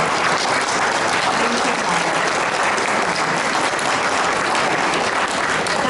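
Sustained applause from an audience at a Ljubljana book presentation on the history of healthcare and medicine, a dense, even wash of clapping that runs loud and steady throughout with no pauses.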